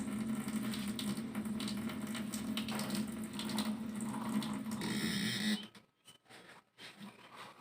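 Water runs steadily from a faucet with a hissing splash, then abruptly cuts off, leaving a few faint clicks and handling noises.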